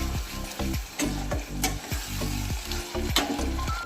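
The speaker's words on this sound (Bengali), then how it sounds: "দেখুন চিকেনটা দিয়ে কিন্তু আমি খুবই ভালোভাবে কষিয়ে নিচ্ছি।" Chicken stir-fried hard in a pan for egg chicken tarka, a loud continuous sizzle broken by rhythmic scraping strokes of the spatula, close up with no voices.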